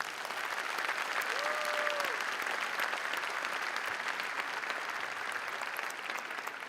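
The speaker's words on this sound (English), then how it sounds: "So let's big them up with a big round of applause." Steady applause from a convocation audience honoring graduates of a management school, a dense sustained clatter of many hands that holds level throughout, with a brief tonal sound faintly audible near the start.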